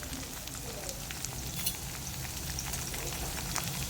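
Peanuts spluttering and sizzling in hot oil in a home kitchen, with cumin and mustard seeds added, a steady close crackle with small popping bursts.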